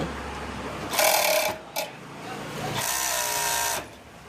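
An overlock serger machine stitches fabric at a tightened stitch density, running in a close, steady whir for about half a second, then a short blip, then a longer run of roughly a second.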